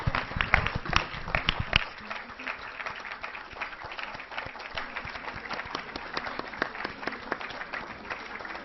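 An audience applauds a Lifetime Achievement Award recipient at a typography conference award session. Dense, sustained clapping runs throughout, busiest and loudest in the first two seconds, then settles into a steady patter.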